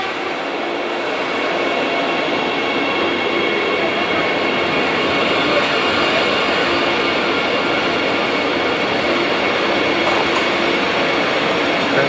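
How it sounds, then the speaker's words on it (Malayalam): A Vande Bharat Express train pulls out of Kollam railway station in Kerala, its steady broadband rumble and rolling noise loud and continuous, with faint background voices. "ഇപ്പോൾ കൊല്ലം റെയിൽവേ സ്റ്റേഷനിൽ നിന്ന് ട്രെയിൻ മുന്നോട്ട് പോകുന്ന ദൃശ്യങ്ങൾ നമുക്ക് കാണാം."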